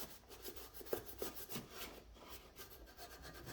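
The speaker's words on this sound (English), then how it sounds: "So go ahead and get some of that old gasket off of there." Scraping old gasket material off the sump of a Kohler engine on a Cub Cadet 1554 garden tractor, a quiet rasping rub in short irregular strokes, close and alone without talk.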